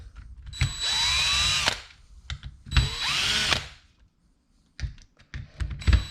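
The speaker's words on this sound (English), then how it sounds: "Let's spin out all these screws." A power driver spins screws out of a Dewalt DCF885 impact driver housing: two high whirring bursts about a second long each, followed by light clicks and handling noises of the tool and screws.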